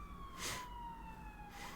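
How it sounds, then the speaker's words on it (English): A police car siren sweeps past with a high wailing tone that drifts lower as it goes, over steady low street rumble, with a louder burst early on and another near the end. "police car went past"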